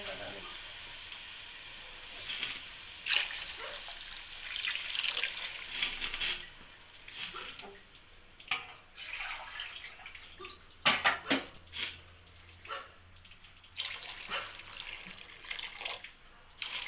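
Water gushes and splashes into a pot in uneven bursts, with pauses and clanks between pours.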